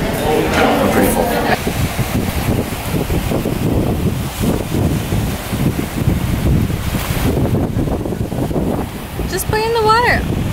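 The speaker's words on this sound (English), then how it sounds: "I don't think they can hear you with this wind" Strong wind buffets the microphone at a beach beside the water, a steady loud rumble throughout, with waves in the background and people talking in between.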